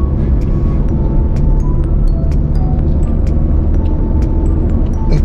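A car cruising along a national highway in Meghalaya, its steady engine and road rumble loud and continuous, with faint high ticks and rattles scattered over the drone.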